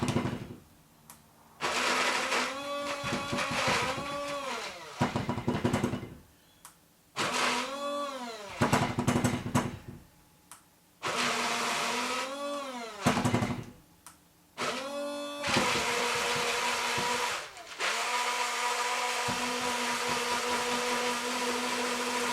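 A blender mixes carrot puree soap batter in bursts that start and stop several times, loud and whirring with a rising pitch. It ends in a longer steady run.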